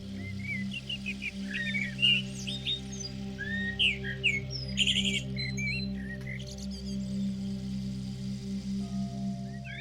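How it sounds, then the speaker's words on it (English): A blackbird sings in a forest, with bright, scattered chirps and warbling phrases over a steady low drone that continues throughout. "as you sense the songs of the birds all over the planet"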